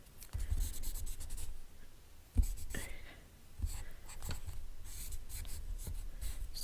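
Soft, steady rubbing of a blending pencil tip over paper in a coloring book, close and quiet, with a few brief taps and pauses between strokes.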